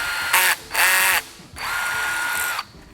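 A cordless screw gun whirs in three short bursts, the last one longest, as it drives a head stud into a Porsche 3.2 engine, with quiet pauses between the bursts.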